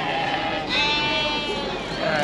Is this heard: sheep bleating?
yes